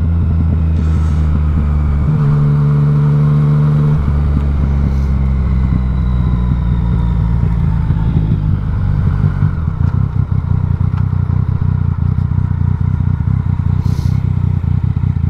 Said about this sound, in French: T'as l'accélération d'une moto.